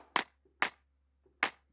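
Three tight, dry clap samples from the Native Instruments Infinite Escape expansion, struck one at a time with sharp attacks and short decays, isolated against silence.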